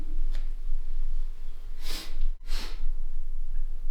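A couple of short nasal sniffs close up, breathy and quiet, separated by a brief pause over a low background hum.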